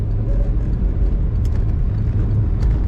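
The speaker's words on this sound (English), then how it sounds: "Today we're driving a 1995 Chevrolet Corvette" A black 1995 Chevrolet Corvette convertible with automatic transmission, top down, cruising along: a steady, full low engine rumble with road and wind noise, close and continuous, with no talking.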